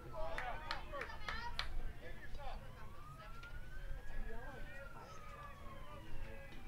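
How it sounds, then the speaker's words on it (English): A Forest Service truck siren wails in the distance during an outdoor baseball game, a faint rising and falling tone heard under crowd noise and talk. "And sirens in the background"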